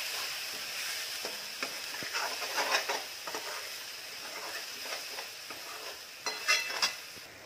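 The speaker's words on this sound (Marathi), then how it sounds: "आणि आता ह्या वाटणाला चांगलं तेल सुटेपर्यंत परतून घ्यायचं।" Ground masala paste for a pomfret fish curry sizzles softly in oil. It is stirred with occasional spatula scrapes and light clinks, with no voice.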